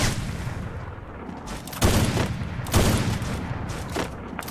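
Sniper rifle fire in a battle royale video game sounds as several sharp, booming shots spaced a second or so apart over a constant rumbling game background, with no voices.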